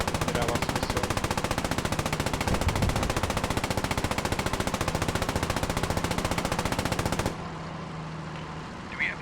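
Sustained rapid machine gun fire in an online multiplayer shooter stress test, a loud continuous stutter of shots for about seven seconds before cutting off abruptly to quieter ambient game noise.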